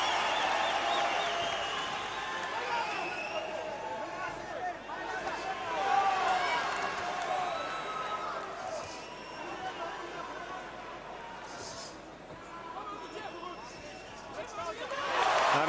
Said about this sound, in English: Crowd enjoyed that.